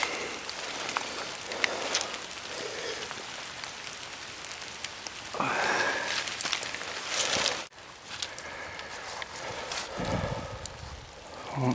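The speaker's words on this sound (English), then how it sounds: "As you can hear, it's raining right now" Steady rain falls outdoors during a Michigan deer bow hunt, a dense hiss of drops spattering on surfaces close by, continuous throughout with a few louder rustling bursts and no talking.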